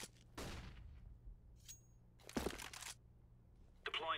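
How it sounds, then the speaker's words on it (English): A flashbang grenade goes off in a video game with a couple of sharp, broadband bursts separated by quiet gaps, followed by a brief bright ringing tail near the end. "Deploying flashbang."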